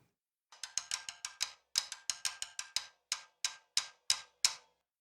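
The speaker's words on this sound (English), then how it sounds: "The rack tom." A rack tom from a song arrangement, short and sharp with slight reverb, beats out a brisk run of roughly twenty crisp, even hits with small pauses between groups.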